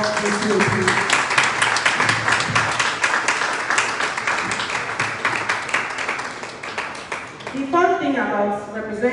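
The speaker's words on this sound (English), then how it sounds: "Kindly give him a round of applause that he walks with you, please." An audience claps for a university social work representative at an anti-human-trafficking event, quick scattered applause under a loud voice, fading toward the end.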